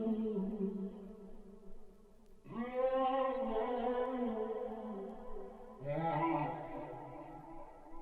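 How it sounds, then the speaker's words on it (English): Vocal processed through a downsampler to an 8K sample rate for a trapsoul effect, heard as three sustained, gritty, lo-fi sung phrases with a metallic, aliased sheen, moderately loud with no talking. "so I used a downsampler and just downsampled it to 8K,"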